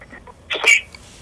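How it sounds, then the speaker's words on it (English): One short sharp sneeze bursts out close by in a quiet room, a brief breathy intake then a bright explosive release lasting under half a second. "This sound like a sneeze."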